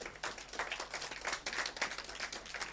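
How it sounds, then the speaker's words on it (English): An audience at a women's rights organizations festival session claps for itself, with a quick run of scattered hand claps at moderate distance and no talk over it. "Clap for yourselves."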